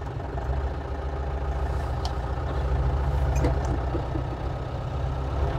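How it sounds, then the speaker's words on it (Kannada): A diesel off-road jeep engine runs at a steady, close idle with a low, even throb, and a few faint clicks and knocks sound over it. "ಸೊ ಈ ಗಾಡಿನ ಸ್ಟಾರ್ಟ್ ಮಾಡ್ತೀನಿ. ಡೀಸೆಲ್ ಗಾಡಿ ಇದು"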